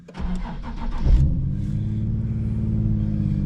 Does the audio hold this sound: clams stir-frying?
no